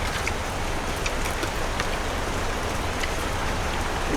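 Steady rain falls outdoors in a dense, even hiss of drops hitting surfaces, constant and fairly loud throughout.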